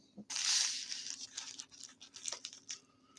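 Scissors cut and tear through a package, a burst of crinkly, tearing packaging noise up close followed by lighter scattered snips and rustles, with no talking.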